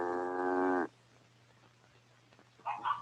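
A single long, loud moo from a farm cow sounds close by for almost a second, then stops. Quiet rustling follows, with a brief fainter call near the end.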